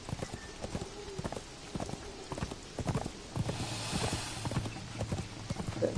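Horse hooves clip-clop steadily while riding in Conan Exiles, a brisk, even rhythm of close, clear hoofbeats on the ground with faint ambient game sound beneath.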